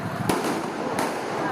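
Firecrackers set off during a street brawl in the Manggarai tunnel, Jakarta: two sharp loud bangs about a second apart over a dense roar of crowd noise.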